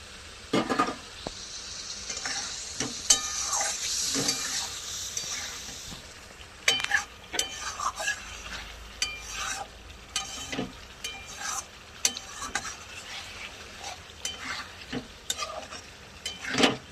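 Eggs dropped one by one into hot oil with Kashmiri chili, sizzling steadily up close while a utensil clinks and scrapes the pan in repeated sharp taps.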